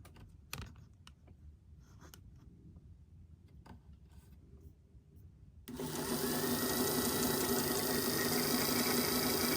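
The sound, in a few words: sewing machine winding a bobbin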